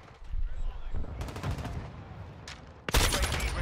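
Gunfire in the video game Call of Duty: Modern Warfare II, with rapid bursts of automatic fire and then a louder, close burst near the end, all over a dense game-action backdrop.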